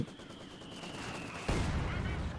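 A German MG machine gun in Company of Heroes 2 rattles in a dense, continuous burst of game gunfire, loud and steady with a heavier thump midway, with no talk over it.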